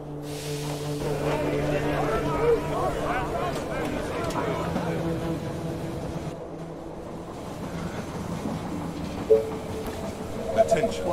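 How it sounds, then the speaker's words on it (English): Train arriving at a station in the strategy video game They Are Billions, a rumbling rail approach with a few clanks, heard beneath game voice lines and other in-game sounds. "The train has arrived at the station."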